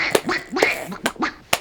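A man imitates a duck, giving a run of about five nasal, buzzy quacks in an uneven rhythm, close and fairly loud, with no other talk.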